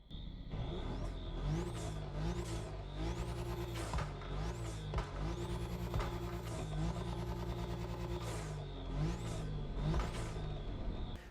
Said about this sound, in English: So now taking the Z on a test drive,